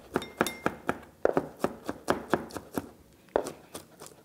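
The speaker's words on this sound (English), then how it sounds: "we'll just chop it right up into there" A knife chops Italian-herb marinated olives and garlic on a board, a quick close series of crisp, even chops with a brief pause partway through, with no talk.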